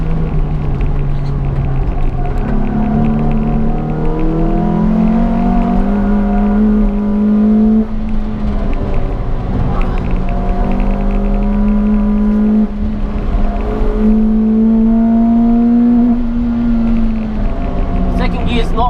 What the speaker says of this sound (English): Second gear's not quite long enough for that corner, just limiter bashes